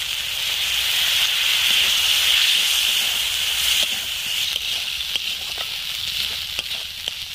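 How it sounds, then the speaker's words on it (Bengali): Spiced water is poured into a hot pan on a low flame while Bengali doi katla, a yogurt fish curry, is being cooked. It gives a loud, steady hiss that slowly fades, and a few soft clinks and stirring taps follow. "মশলার জল দিচ্ছি এটা"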